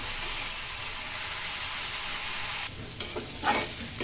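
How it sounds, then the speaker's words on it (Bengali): Cabbage fries in a pan with a hilsa fish head, giving a dense, continuous sizzle, followed near the end by a few scraping stirs. "এভাবে আমরা আরো 5 থেকে 7 মিনিট ভেজে নেব।"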